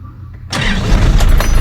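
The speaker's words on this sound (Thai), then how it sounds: "มาลองฟังเสียงเครื่องกันครับ" An Isuzu pickup truck with a 3000 engine cranks and fires up after a brief quiet moment, then settles into a loud, rough running rumble close by.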